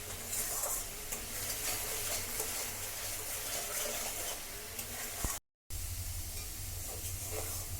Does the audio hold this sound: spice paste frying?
yes